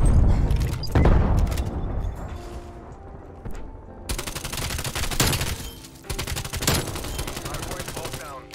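Strafe run scorestreak in Call of Duty Cold War, dense rapid automatic gunfire and booming bursts that roll on and swell in waves, loud and continuous, with a little game chatter mixed in.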